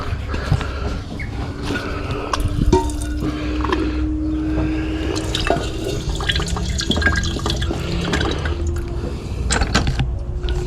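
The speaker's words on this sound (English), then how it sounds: "Give us a bit of a squirt." Water squirted from a spray bottle while refining 9K and 10K gold jewellery, with irregular spritzes, drips and liquid splashes close by, interspersed with clinks and handling noises and a low background hum.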